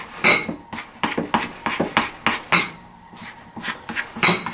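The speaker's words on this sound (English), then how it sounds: "Looks like that's actually stirring, that's actually melting very well." Ingredients melting in a pot while being stirred, a quick series of close metallic scrapes and clinks of a spoon against the pot in uneven strokes, with no talk.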